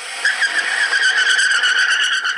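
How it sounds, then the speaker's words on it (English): A drag racer's burnout tire skid: a loud, sustained high-pitched squeal of spinning rubber that holds steady for about two seconds, with no voices. "So we're looking for drag racer burnouts"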